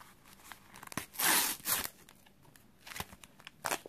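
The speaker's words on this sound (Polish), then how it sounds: "Otwieramy nową saszetkę." A new Smurfs Panini sticker packet from 2017 is torn open with a quiet, close papery rip. The rip swells in two short bursts, and soft crinkles and small handling sounds come before and after.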